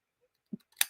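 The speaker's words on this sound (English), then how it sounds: "And then I'll use my scissors here" Scissors snip paper bear shapes for a handmade card, two quick faint cuts a moment apart, close and otherwise quiet.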